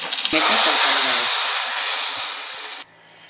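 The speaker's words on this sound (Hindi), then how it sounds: "और अब मैं इसको तड़का लगा करती हूँ।" Tempering spices (tadka) with ajwain and green chilies for qalandri daal, a sudden loud sizzle that holds for a couple of seconds before cutting off abruptly.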